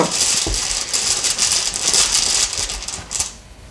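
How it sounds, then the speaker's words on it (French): Divination stones set down over tarot cards, giving a quick run of light clicking, rattling contacts close by that continue steadily for a few seconds before tapering off. "on va un petit peu recouvrir avec les pierres divinatoires"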